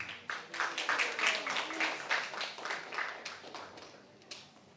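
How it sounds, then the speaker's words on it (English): Audience applause for a woman taking the stage at an international public speaking workshop, a steady burst of clapping lasting several seconds and fading toward the end. "Let's give her a round of applause,"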